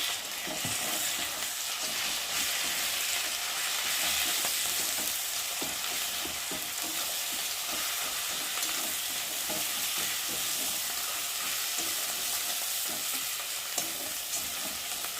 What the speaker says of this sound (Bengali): আর এখন মশলাটা ভালো করে ভেজে নেব।